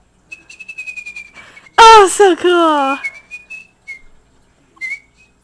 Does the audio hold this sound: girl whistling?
yes